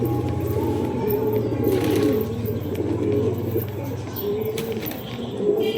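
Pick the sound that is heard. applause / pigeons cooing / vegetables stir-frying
pigeons cooing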